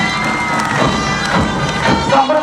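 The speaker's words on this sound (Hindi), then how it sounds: "एक बार पुनः जोरदार तालियां बजाइए रणबांकुरों के लिए।" Crowd at a flag-hoisting parade on a parade ground, cheering and shouting loudly and continuously, with scattered claps and dull thumps mixed into the steady noise.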